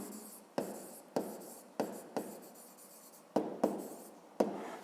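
A pen scratches across paper while working a fifth-grade math exercise. Close, quiet strokes come in short separate bursts, roughly eight of them, with brief pauses between.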